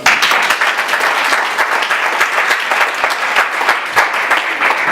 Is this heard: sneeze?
no